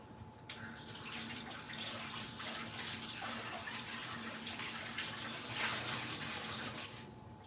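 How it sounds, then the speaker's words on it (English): A bowl is rinsed under a running kitchen tap: a steady, soft hiss of flowing water with faint splashing changes as the bowl shifts, continuous throughout. "let me give this bowl a nice rinse before I use it again."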